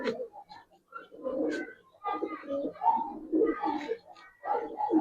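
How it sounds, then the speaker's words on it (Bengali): A round-headed silver Giribaz pigeon coos in soft, repeated low phrases at close range, while someone talks over and between the calls. "গোল মাথার কবুতর, মাশাআল্লাহ।"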